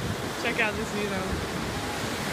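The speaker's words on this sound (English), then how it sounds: "appreciate the size and the beauty of these waves, like crashing up against the" Large ocean waves crashing on the Australian coast make a loud continuous roar mixed with wind, while a voice briefly sounds over it.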